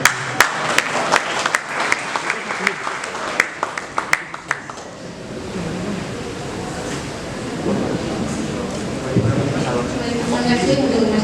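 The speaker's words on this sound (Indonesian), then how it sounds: "Sekali lagi tepuk tangan untuk kedua narasumber kita." Applause from a talk-show audience at an inauguration event for two speakers: a dense, sustained roar of clapping with sharp individual claps early on, swelling into a continuous wash that fills the whole stretch.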